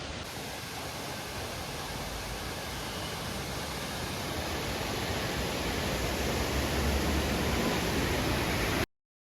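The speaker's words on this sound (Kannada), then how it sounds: "ನನಗೊಂದು ಫಾಲ್ಸ್ ಸಿಕ್ಬಿಟ್ಟಿದೆ." Steady, full-band roar of a waterfall at Charmadi Ghat, loud and unbroken like dense rushing water close by, holding constant throughout with no voices before cutting off abruptly at the end.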